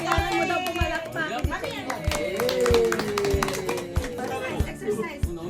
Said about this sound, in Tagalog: Kailangan mo daw pumalakpak.